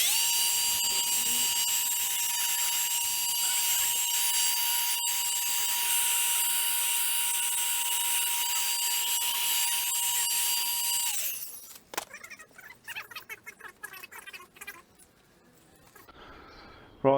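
A rotary polisher works paint on a BMW S1000RR motorcycle at low speed setting 3 with very light pressure, a steady high whine holding for about eleven seconds before winding down, followed by scattered handling clatter.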